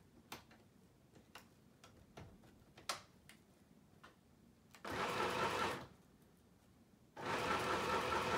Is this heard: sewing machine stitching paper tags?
yes